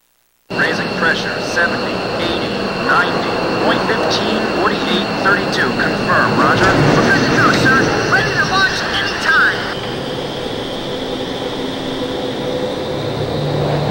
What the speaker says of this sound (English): War Dog, launch!